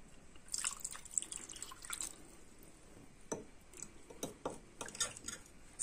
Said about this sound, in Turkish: Salça sosumuzu döküyoruz.